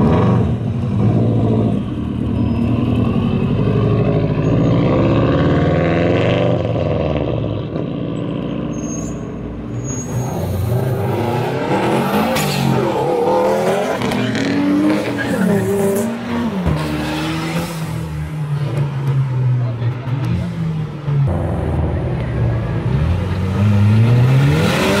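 A turbocharged Volkswagen Jetta revs and accelerates hard at a street racing spot, loud and close, with rising engine sweeps, tire squeal and skidding across the whole stretch.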